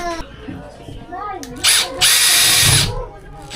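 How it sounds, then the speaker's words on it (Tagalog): A power drill drives screws in a couple of loud, close bursts of rising whine, with a person talking before the drilling. "I-screw ko na lang."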